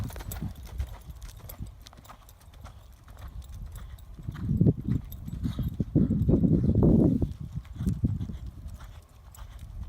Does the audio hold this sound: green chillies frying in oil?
no